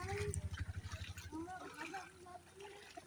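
Clear water trickles and flows softly and fairly faintly, with people talking over the watery sound.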